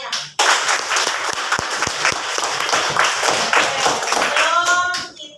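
A high-school class in Jakarta bursts into sustained applause, many hands clapping close by for several seconds before it fades, with a voice briefly heard at the end.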